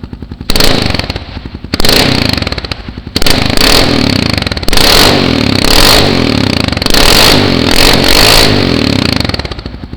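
A Kawasaki KLR650 fitted with a Two Brothers M7 exhaust revs repeatedly inside a concrete building, loud sharp bursts echoing off the walls, separated by short dips back to idle.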